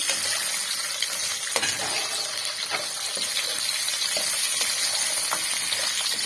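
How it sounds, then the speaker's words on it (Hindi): Potatoes and cumin seeds frying in a pan hiss steadily at moderate volume while a spoon stirs and scrapes through them in irregular strokes, with no voices. "इसमें हम अब अपने आलू शामिल कर देंगे। आलू शामिल करके इनको अच्छे तरीके से पहले हम मिक्स कर लेंगे।"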